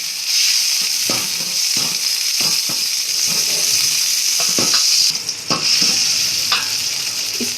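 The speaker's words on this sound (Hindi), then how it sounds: "सबसे पहले हम अदरक और सब्ज़ मिर्च का पेस्ट डालेंगे इसमें, इसे हल्का सा फ्राई करेंगे।" Ginger and green chili paste fries in hot oil, giving a loud, steady sizzle with intermittent scraping stirs against the pan, close up and without talk.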